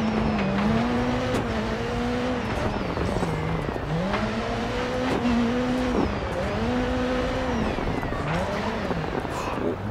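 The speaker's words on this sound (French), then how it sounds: "le bruit du moteur qui est assez important" A rally car engine in the video game DiRT 4 revs through repeated gear changes, its pitch climbing and dropping in a steady cycle, loud and continuous with gravel and tire noise, while a voice talks faintly underneath.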